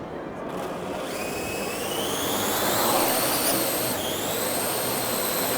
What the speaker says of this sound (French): On repense nuage, le drone monte.